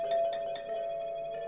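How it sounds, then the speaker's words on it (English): A soft, elegant intercom doorbell chime from the video game 428: Shibuya Scramble, a few gentle tonal notes that ring out and sustain quietly with no voices over them. "Even the little chime it made when pressed sounded elegant."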